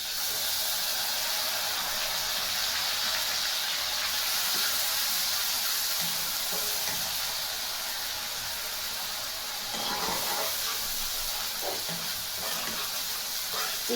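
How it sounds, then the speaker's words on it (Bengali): Chopped onion frying in hot oil in a prawn curry pan, giving a steady, loud hiss and sizzle with faint crackles near the end, with no talking. "তেলের ভিতর পেঁয়াজ কুচি দিয়ে দিছি"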